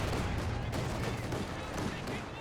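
Grenadiers firing light machine guns in a Company of Heroes 2 battle, dense continuous gunfire and explosions in a loud wall of combat noise throughout.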